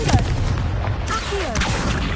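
Confringo blasting spell explosion in Hogwarts Legacy, a loud, booming blast with rumbling low impacts that fills the whole moment, with no talk.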